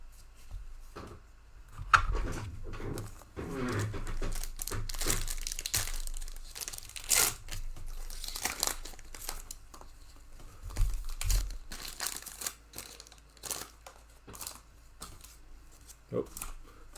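Foil packs of 2021 Panini NFL Absolute trading cards being ripped open in repeated crinkly, tearing bursts, close up, with a person talking intermittently over the handling noise.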